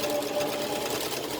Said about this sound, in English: I'm going to back stitch over it just to make sure it sits properly